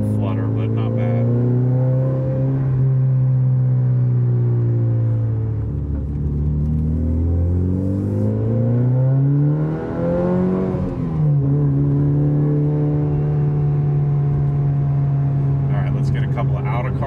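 A Mitsubishi Evo 8 with a light all-titanium aftermarket exhaust revs in a loud, steady drone that dips and swells as engine speed changes, with a slight flutter and rumble around mid revs, heard from close by.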